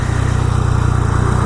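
A quiet motorcycle engine hums steadily while riding, a close, even low-pitched drone with rapid regular pulsing and wind noise.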